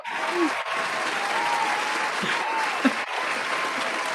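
An audience bursts into sustained applause, loud and steady clapping filling the whole stretch with a few cheers rising over it.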